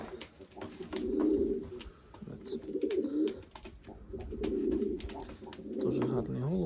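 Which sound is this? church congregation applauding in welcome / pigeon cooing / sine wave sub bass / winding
pigeon cooing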